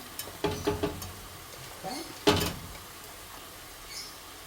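Tomatoes and frozen peas are stirred in a frying pan with a spoon, making several quiet scraping and clattering strokes in short bursts with a faint sizzle, and a soft voice is briefly heard in the background.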